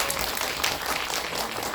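A crowd claps steadily after a talk at a film festival event, a short burst of dense applause at even loudness throughout.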